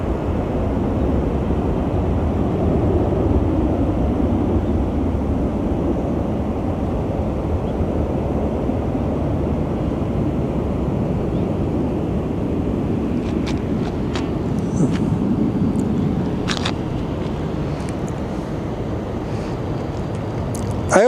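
A heavy airliner at Phoenix Sky Harbor airport makes a continuous low roar that holds at steady loudness throughout, with wind buffeting the microphone and a few short clicks toward the end.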